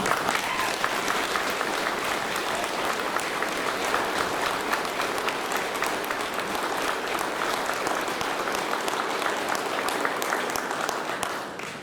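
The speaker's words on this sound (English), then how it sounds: "Please give Lieutenant Colonel a round of applause" A crowd gives loud, continuous applause at a military promotion ceremony for a new Lieutenant Colonel, with dense clapping that holds steady for about twelve seconds.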